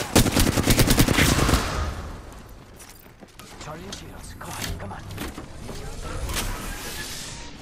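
Rapid automatic gunfire rattles in dense bursts during an Apex Legends firefight, loud and close at first, then continuing more sporadically alongside shooting farther off, with voices talking throughout.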